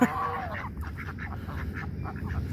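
A hen duck at a small farm quacks in a rapid run of nasal calls, close and moderately loud, over a low background rumble without talk.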